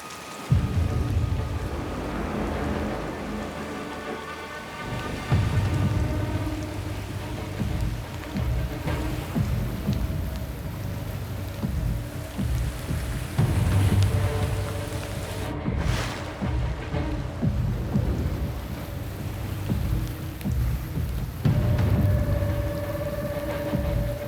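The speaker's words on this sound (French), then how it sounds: "La pluie arrive." Rain falls steadily on an outdoor island survival challenge, a continuous hiss of drops hitting surfaces, with occasional low rumbles and no talk.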